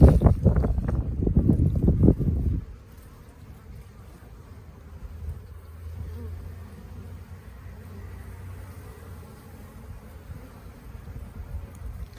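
Honeybees swarm around a big, busy hive as foragers bring in pollen. A loud close burst of handling noise opens, then a steady low insect hum carries on alone.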